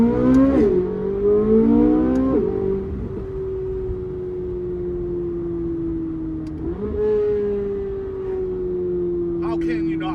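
A C8 Corvette Z06 with a modified intake, sport cats and ported throttle bodies revs hard, climbing and holding a high steady wail, easing down, then rising again, loud and close.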